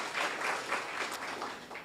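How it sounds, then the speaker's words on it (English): Short burst of audience clapping at a student internship programme closing ceremony, a brief, moderately loud patter of hands with audible individual claps, no talk over it. "Give her a round of applause."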